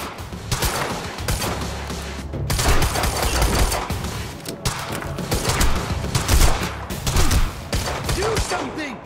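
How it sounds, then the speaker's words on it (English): Dense bursts of gunfire in the action shooter Quantum Break, volleys cracking repeatedly over a loud, chaotic firefight with voices shouting in between. "Opening fire!"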